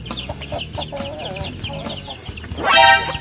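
Chickens cluck in short repeated bursts nearby, building to a louder, squawking call near the end.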